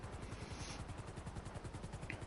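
A luxury helicopter's rotor thumps in a fast, steady rhythm, close and continuous throughout, in the video game GTA.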